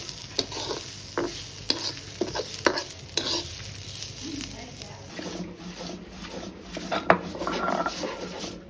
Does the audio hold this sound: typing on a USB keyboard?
no